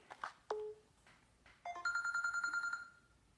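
A telephone rings with a clear electronic trill, one short burst followed by a longer sustained ring, close and fairly quiet, with no talking over it.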